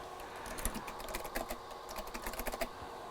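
Keys on a Tandy 2500 SX/25 keyboard tapped in a quick irregular run of close, crisp clicks over a steady background hum, no voices.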